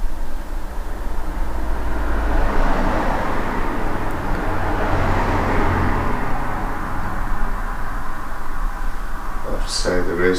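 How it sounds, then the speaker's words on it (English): A car passes on the street outside a building, a broad muffled rumble that swells and fades over several seconds, heard from indoors at moderate distance, with a brief clatter near the end. "I have to say there is a street outside. Yeah. The car's going by."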